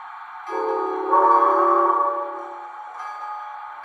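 A model train's five-chime steam whistle sounds a sustained multi-tone chord, steady and fairly loud, swelling midway then fading to quiet hiss.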